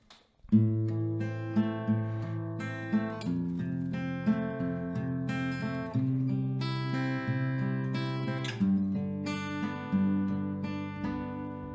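Acoustic guitar strumming the chords of a song at standard tempo, clear rhythmic strums with ringing sustained chords, played alone at close range.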